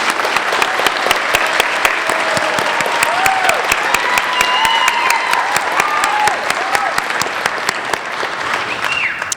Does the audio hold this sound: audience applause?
yes